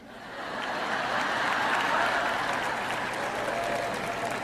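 A church audience at a French-language sermon breaks into applause that swells over the first second and a half, then holds as a dense, sustained clapping from a large crowd.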